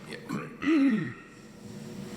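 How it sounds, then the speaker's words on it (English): A single rough, guttural throat clearing close to the microphone, brief and fairly loud, with a quiet background afterward. "Sorry guys, clear my throat all the time."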